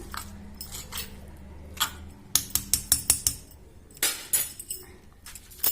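Raw lime pieces, coconut and green chili are worked in a stone mortar, giving hard, sharp knocks and clinks, including a quick rhythmic run of about five strikes, with scattered scraping between them.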